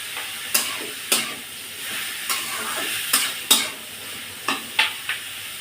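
Small fish curry fries in a pan, stirred in a rhythm of about ten sharp scraping strokes over a constant close sizzle.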